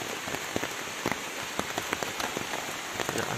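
Rain falling outdoors during a night wild boar hunt in Indonesia: a dense steady hiss with scattered sharp drops tapping close by on a nearby surface, no voices.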